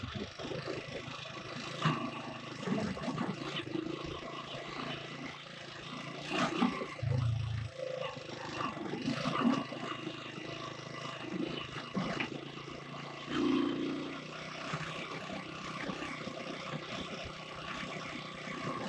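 Motorcycle engine labouring in low gear over rocky ground on a mountain trail in Kashmir, a steady rough drone with occasional bumps and revs throughout.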